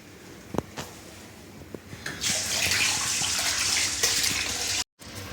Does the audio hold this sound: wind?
no